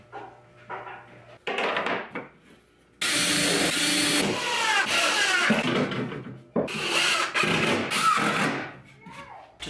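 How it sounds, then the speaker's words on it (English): A circular saw and a bandsaw cut half-lap joints in wooden brackets. Short rough bursts give way to two long, loud, close cutting passes, separated by a brief pause. "I'm just going to use a circular saw and bandsaw to do this."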